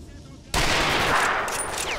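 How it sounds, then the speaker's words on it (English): Single sharp sniper rifle shot in STALKER: Shadow of Chernobyl, a sudden loud crack after a quiet moment followed by a sustained, slowly fading echoing tail. "I think I'm just gonna use that sniper rifle"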